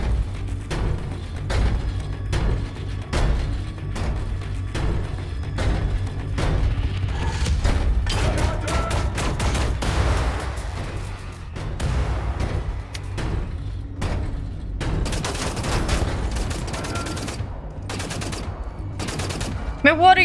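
Continuous gunfire fills a battle in Wolfenstein: The New Order, rapid shots and bursts over a rumbling low backdrop, growing denser and sharper toward the end.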